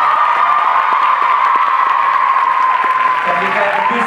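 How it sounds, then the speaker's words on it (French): An audience at a film presentation claps steadily, a continuous patter of hands with a few whistles or cheers mixed in, sustained for about four seconds as voices start to come through near the end. "alors on peut applaudir."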